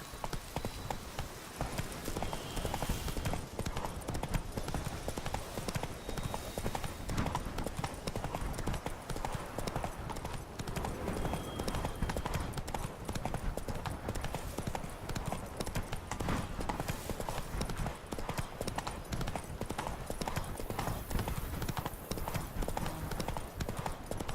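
A horse gallops in The Witcher 3: Blood & Wine, its clip-clop hoofbeats running in a steady, driving rhythm for the whole stretch over a constant wash of outdoor ambience.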